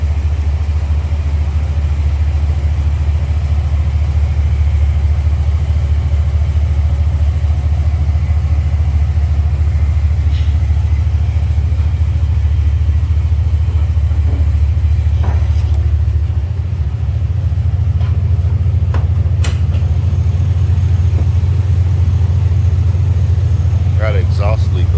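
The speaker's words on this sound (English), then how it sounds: "Got an exhaust leak over here, but that's about it." An LS V8 engine idling with an exhaust leak, a loud steady low rumble close to the mic with a continuous even drone, some faint clicks and a brief shift in tone partway through.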